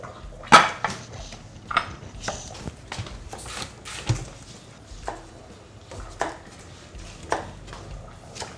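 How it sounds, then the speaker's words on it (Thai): Knife chopping mushrooms on a cutting board in irregular, sharp taps, close and fairly loud, with faint kitchen clatter between strokes. "ดังนั้นเราก็หั่นเลยครับ"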